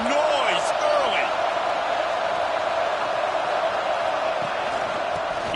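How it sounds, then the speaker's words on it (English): Steady crowd roar from spectators at a college football game in the OU stands, loud and continuous throughout, with faint whistle-like tones over the din. "This crowd bringing the energy and noise early."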